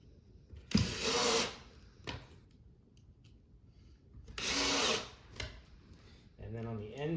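Power drill driving pocket screws into a 48-inch farmhouse shoe bench during assembly, two loud whirring bursts with short gaps, a clunk between them, and a voice talking near the end.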